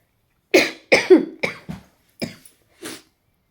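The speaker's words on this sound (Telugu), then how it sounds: "చూసారు కదా ఫుల్ జలుబు తగ్గు రెండు మిక్స్ అయిపోయినాయి" Six sharp coughs from a person with a heavy cold, in quick succession, close up, each a short harsh burst with brief pauses between, trailing off softer at the end.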